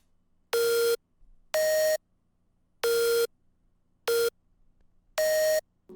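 Five loud, sustained synth tones sound one after another with short silent gaps, each a bright buzzy held note at the same pitch.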